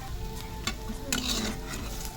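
Quiet sizzling of chowmein frying in a pan with a few metallic scrapes and stirring clatters of a utensil against the pan.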